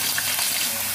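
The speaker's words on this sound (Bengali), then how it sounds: "মাছ আছে 3 পিস, ভেজে নেব," Rohu fish pieces fry in a pan with a steady, dense sizzle that crackles evenly all the way through, close and loud, with no talking.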